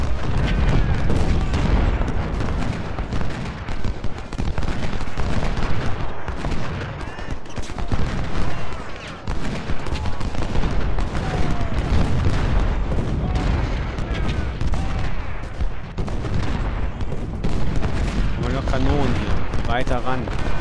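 Dense cannon blasts and volleys of musket gunfire from an American Civil War battle at Chancellorsville in Ultimate General: Civil War, loud and continuous, with booming shots layered over crackling rifle fire throughout.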